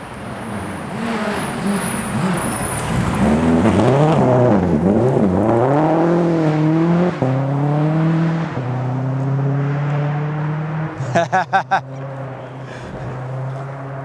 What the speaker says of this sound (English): you can hear that last downshift there